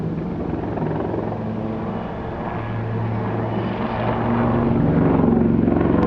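An Army Lynx helicopter flies an aerobatic backflip at the Eastbourne airshow. Its engine and rotors produce a loud, sustained drone that swells slightly toward the end, heard alone with no voices.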